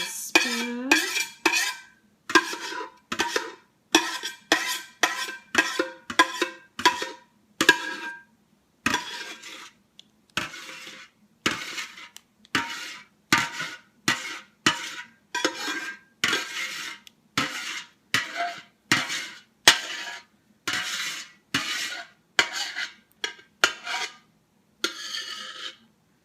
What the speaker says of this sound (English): I'm just going to scrape this here with the spoon.